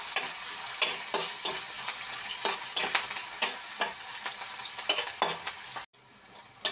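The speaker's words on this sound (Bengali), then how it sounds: "পেঁয়াজগুলো ভাজা হয়ে আসছে" Chopped onions sizzle in hot oil in a wok while a spoon stirs them, scraping strokes landing in an uneven rhythm about every half second over a constant frying hiss, then a brief pause near the end.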